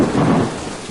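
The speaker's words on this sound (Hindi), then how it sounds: "केदारनाथ में भी बारिश शुरू हो गई।" Heavy monsoon rain pours in a steady, dense wash at Kedarnath, Uttarakhand, while low thunder rumbles loudly through the first half before easing off.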